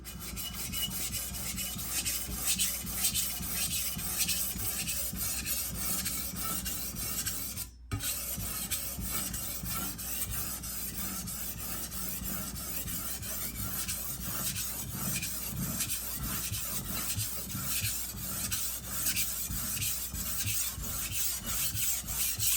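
A kitchen knife is worked steadily across a sharpening stone, a continuous near rasping scrape with quick repeated strokes, broken by one brief pause, with no talk.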